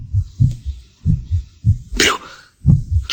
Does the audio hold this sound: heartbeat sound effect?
yes